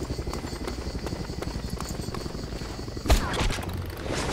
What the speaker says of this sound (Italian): Sento un elicottero.